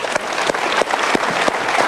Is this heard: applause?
yes